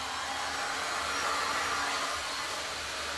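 A heat gun blowing hot air across poured resin for a 3D wave effect, a loud continuous whooshing drone held steady at close range.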